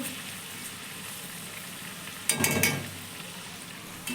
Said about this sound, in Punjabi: ਪੱਲਿਆਂ ਨੂੰ ਮੈਂ ਚੰਗੀ ਤਰ੍ਹਾਂ ਫਰਾਈ ਕਰ ਲਿਆ ਜੀ